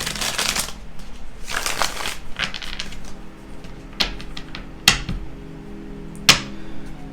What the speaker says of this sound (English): I pre-shuffled the deck, but I'm going to shuffle it once more